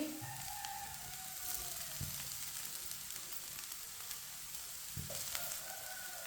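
Boiled chicken pieces, broken small, fry and sizzle in a pan while being stirred, a steady close hiss with a few soft scrapes of the spoon.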